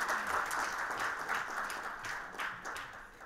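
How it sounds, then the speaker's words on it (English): Audience at a food processing event in Jharkhand giving a round of applause, steady clapping from many hands that slowly thins out, heard alone without talk. "Can we have a big round of applause for Naji ji?"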